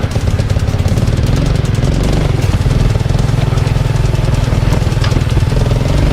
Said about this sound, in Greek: θα πάμε το μηχανάκι